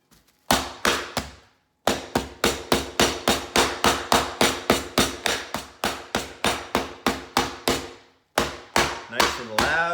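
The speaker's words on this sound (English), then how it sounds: "flatten these right out to nice little cutlets" Pork cutlets being pounded flat for tonkatsu with a meat mallet, a steady run of loud, sharp thuds in quick rhythm, broken by two short pauses.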